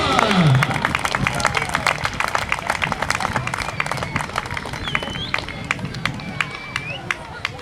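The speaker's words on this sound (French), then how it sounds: "On peut vous applaudir." A crowd at a 2015 BMX event in Avrillé claps steadily, with dense, sharp individual claps lasting throughout alongside a low background hubbub of voices.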